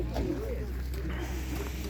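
Soft pigeon cooing at a pigeon exhibition, a low throaty warble nearby, against a steady background hum.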